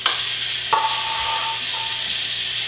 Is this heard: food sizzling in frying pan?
yes